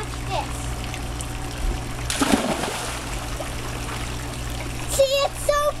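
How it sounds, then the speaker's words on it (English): A splash as someone plunges into water, with flowing water and faint voices around it and a few high chirpy sounds near the end. "going to jump into the water"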